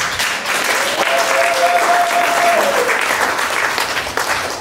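A church congregation claps for Jesus in a dense, loud burst of applause that fills the room and holds steady for several seconds, with a voice briefly rising above the clapping.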